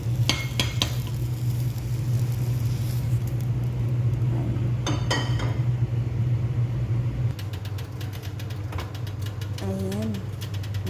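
Food sizzles steadily in a hot pan while it is stirred, with scraping clicks and knocks of the utensil against the pan, continuous and fairly close, and a short glassy clink near the end.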